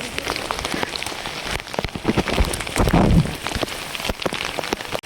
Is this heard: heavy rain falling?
yes